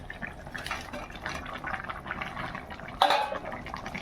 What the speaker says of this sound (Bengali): এই মাছগুলো, ভাজা মাছগুলো দিয়ে দেবো এর মধ্যে